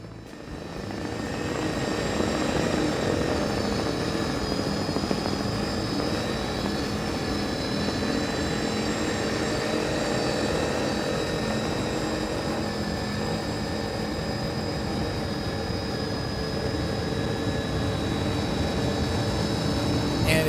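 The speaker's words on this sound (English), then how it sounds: "Those are Mercury Racing 1100s pushing this big beast." Loud, steady roar of Mercury Racing 1100 engines pushing a big powerboat over 100 miles an hour, running continuously with a constant droning hum and no voices.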